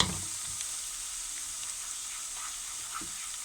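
Garlic frying on full heat for a lentil curry makes a steady, even sizzle with faint stirring scrapes, soft and continuous throughout.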